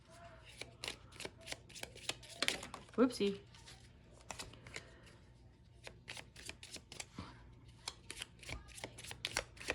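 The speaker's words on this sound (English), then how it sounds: "Give this a shuffle." Playing cards shuffled by hand at home: a run of quick riffling bursts and crisp snaps of the deck, close up, with brief spoken remarks in between.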